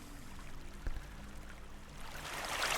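A recorded river stream, a steady low rushing flow whose level is automated so it dips and then rises again, heard alone with no talk.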